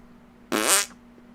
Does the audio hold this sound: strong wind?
no